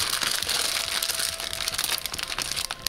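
A plastic freezer bag of frozen food is folded by hand, giving steady crinkling and crackling close up with small crunchy pops, continuous for about three seconds.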